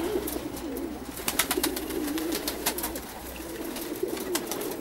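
Perm pigeons cooing in a loft, several soft warbling coos rising and falling against a background of wing flutters and light clatter, fairly close, no voices.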